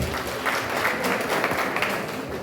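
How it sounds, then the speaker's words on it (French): Audience applause at an international sports forum, a continuous, fairly soft wash of clapping that holds steady without voices standing out. "Je vous demande de l'applaudir très, très fort."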